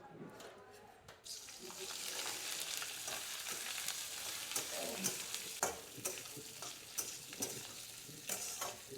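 Mutton with salt and chilli frying in ghee on a plate in a hotel kitchen makes a continuous sizzle with repeated stirring scrapes and clanks, fairly close.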